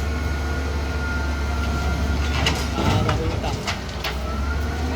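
A train rumbles past nearby with a steady low roar and clattering wheels, while people talk and exclaim over it.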